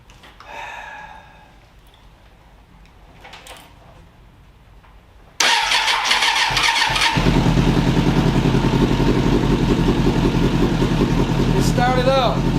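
Suzuki Katana 750 motorcycle, a 2000 model, cranks and catches, then settles into a loud, steady idle close by after quieter handling noises and brief talk.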